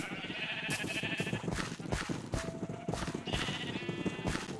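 Repeated sheep bleats from a Minecraft flock, several animals calling in turn and overlapping, close and fairly loud over a busy game background.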